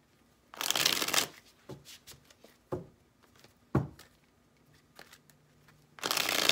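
Tarot cards being shuffled in bursts of riffling and patting, a long shuffle at the start and another at the end, with short soft card taps between, close and clear.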